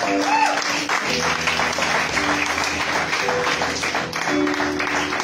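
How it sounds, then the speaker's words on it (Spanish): A church congregation applauds loudly and steadily throughout, a dense wash of clapping with sustained tones and voices mixed underneath. "Me da un fuerte aplauso al Señor."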